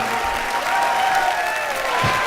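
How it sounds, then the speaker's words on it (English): Crowd at a StarCraft II tournament, MLG Columbus 2011, cheering and applauding in a dense, steady roar of clapping and shouts for the whole stretch. "The crowd is going crazy right now, Nick and Dan."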